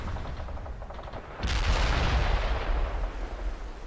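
Gunfire in World in Conflict, a war strategy game: a quieter patter of shots swells into a dense, booming barrage of rapid automatic and heavy weapons fire that carries on steadily to the end.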